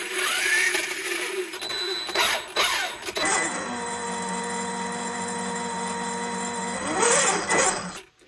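An Arrma Fireteam 6s BLX 1/7 RC car's electric drivetrain under throttle, a steady whining motor hum with layered tonal harmonics that holds, swells briefly near the end and then cuts off.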